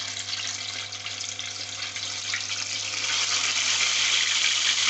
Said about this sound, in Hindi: तो अभी हम इसको तलते हैं। ये देखें जी, हो गया हमारा ऑयल गर्म।